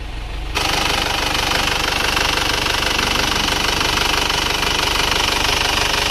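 An Isuzu Panther car engine runs steadily at moderate temperature during a used-car inspection, a loud continuous mechanical clatter that jumps up in level after half a second and then holds constant with no talking.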